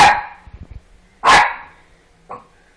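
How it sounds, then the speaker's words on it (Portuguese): A female dog begging for meat lets out three barks: a sharp first bark, a louder full bark about a second later, and a shorter, quieter yip at the end, each close and alone with brief quiet between. "a cadela quer carne"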